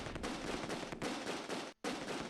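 Sustained automatic gunfire from the Close Combat II wartime strategy game, loud and dense rattling bursts that run nearly continuously, broken by one brief gap before firing resumes.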